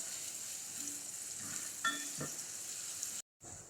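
Onions frying in a pan for masala bhindi, a steady hiss of sizzling oil with a few faint scrapes, briefly cutting out near the end.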